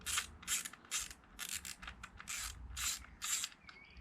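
A ratchet wrench fitted with a short extension works loose the spark plugs on a Renault Clio 4 RS, giving about eight rhythmic bursts of crisp clicking strokes, close and fairly loud, with no talking.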